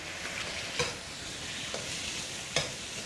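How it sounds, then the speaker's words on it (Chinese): Red oil greens with pickled chilies stir-fried over high heat in a wok, a soft steady sizzle broken by three sharp spatula scrapes. "继续用大火把它翻炒匀净"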